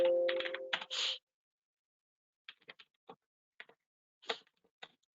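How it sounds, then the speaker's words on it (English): Someone types commands on a computer keyboard, with a few faint sparse clicks and short bursts of keystrokes after a brief noisy moment, quiet and close in an otherwise silent room. "I hope I'm just typing the right command."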